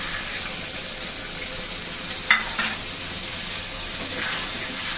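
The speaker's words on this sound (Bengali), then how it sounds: "মশলা দেওয়া বাকিটা দিয়ে একটু জল দিয়ে দিচ্ছি" Water poured into spices frying in a pan for a vegetable curry, giving a steady, fairly loud sizzle throughout with a brief sharper burst partway through, and no talking.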